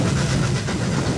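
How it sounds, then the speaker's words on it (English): Mallard, the three-cylinder steam locomotive, working on the Settle and Carlisle line: a loud, steady roar of exhaust and hiss with a rolling rumble, heard close throughout and without voices. "I'm listening for the exhaust sound of the engine when he's working"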